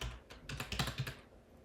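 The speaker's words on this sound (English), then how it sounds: "If we type accomplished," A run of quick keystrokes on a computer keyboard, clicking in a brisk burst close up before trailing off, with no talking.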